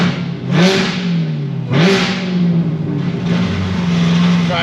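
A supercharged C7 Corvette Z06 with a Stage 4 cam, running on pump gas, revs hard in repeated rising pulls, its engine note and blower whine sweeping up, dropping and climbing again, loud and close.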